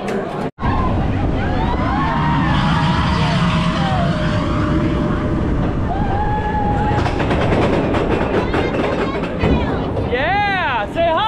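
Train at the Magic Kingdom theme park rumbling steadily nearby, with a whistle-like tone, chatter and children's voices on top, and a squealing, rising sound near the end.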